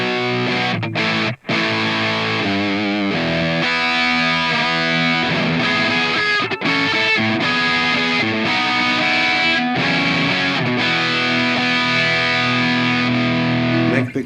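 A PRS electric guitar played through an amp modeler on its bridge humbucker pickup with heavy distortion, loud sustained chords and riffs running nearly continuously with a couple of brief breaks.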